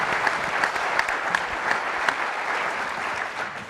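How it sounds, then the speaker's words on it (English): An audience applauds after a contestant's pitch at an entrepreneurship challenge, a steady crowd of clapping hands with a few sharper claps standing out, fading slightly toward the end. "Give her a round of applause."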